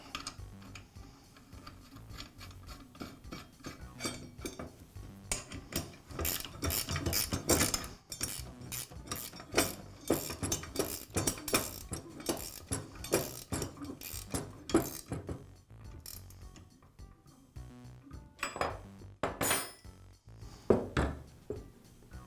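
A lawn edger blade, washer and nut being refitted by hand, with many small metallic clicks, taps and clinks of parts and tools in quick irregular succession, close and unaccompanied.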